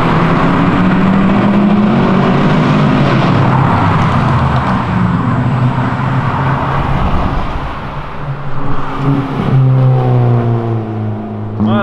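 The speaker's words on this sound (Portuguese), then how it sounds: "O Ford Ka e o Camaro aceleraram aqui" Chevrolet Camaro and Ford Ka engines rev loudly and continuously at a nighttime car meet, a dense rumbling roar throughout with a brief dip near the end before surging again.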